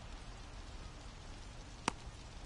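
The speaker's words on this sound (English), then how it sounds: "It feels like we might be headed towards a rain delay if the weather doesn't ease up" Rain falls on the ballfield in the MLB The Show 26 baseball video game, a faint, steady wash of patter with one brief sharp click standing out.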